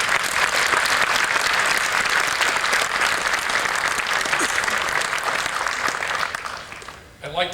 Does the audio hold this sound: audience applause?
yes